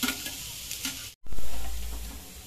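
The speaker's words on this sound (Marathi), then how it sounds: "कांदा आपल्याला व्यवस्थित अगदी लाल होईपर्यंत भाजून द्यायचा" Onion frying in a pan for Patwadi rassa, a loud close sizzle with stirring scrapes, briefly cut, then a fresh burst of hissing that slowly fades.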